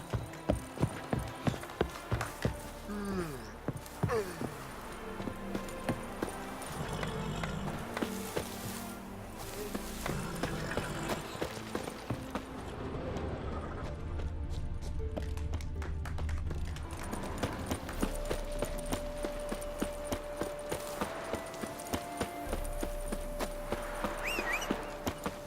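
Roach, a horse in The Witcher 3: Wild Hunt, running with rhythmic hoof clip-clops that fade in and out over game music and ambience, galloping steadily near the listener.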